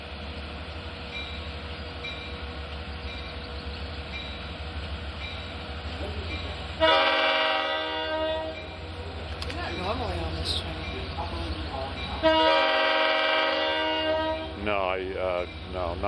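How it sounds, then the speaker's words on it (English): A Long Island Rail Road train, number 2733, at Speonk station sounds its horn in two long, loud blasts over the rumble of the train, while people talk nearby. "So we'll label this one Long Island Railroad Train 2733 at Speonk"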